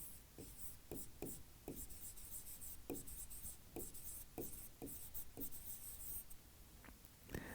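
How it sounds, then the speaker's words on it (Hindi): Pen strokes scratch across paper while a heading is written in class notes, a steady run of short, close scrapes at an irregular rhythm with no talking. "हेडिंग डालिएगा कोशिका झिल्ली, यहीं पर लिख लेते हैं सेल मेम्ब्रेन।"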